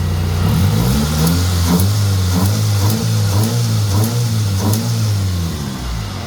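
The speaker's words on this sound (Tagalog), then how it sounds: "Pag nirev natin, may power" A Mitsubishi Lancer engine revs repeatedly, climbing and falling in pitch in quick bursts over a steady, throaty idle, loud and near.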